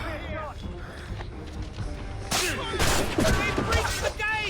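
A gunfire volley in Assassin's Creed Rogue crackles in a burst of sharp shots over background battle noise, with shouting voices mixed in before and after.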